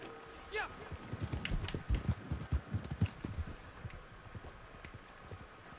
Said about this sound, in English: I could just jump on my horse, I suppose.